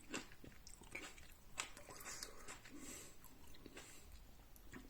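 Bites and chewing on a Metis Dark Moon pluot, a plum and apricot hybrid fruit, with soft wet crunches and mouth noises repeating close to the mic for several seconds, no talk.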